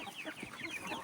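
Hens cluck and murmur in a backyard chicken enclosure, a soft, quiet run of short overlapping clucks and chatter from several birds close by.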